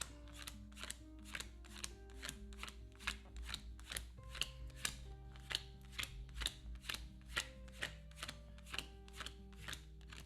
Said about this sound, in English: let me shuffle these up real quick. These bonus cards.